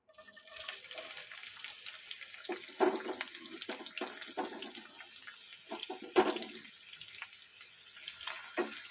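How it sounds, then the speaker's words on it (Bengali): Onions sizzle steadily in hot white oil during home cooking of rajma. The hissing frying noise runs continuously with small crackles and pops, close and moderately quiet, with no talking. "পেঁয়াজগুলো আমি হালকা বাদামি করে ভেজে নেব।"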